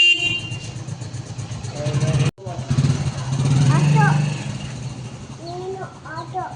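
A motorbike engine hums steadily nearby, joined by several short horn toots from passing traffic, with people talking over the sound.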